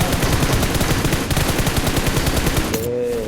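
Rapid, loud, overlapping gunfire bursts from the video game PUBG, including shotgun blasts, fill the whole stretch densely before cutting off abruptly near the end.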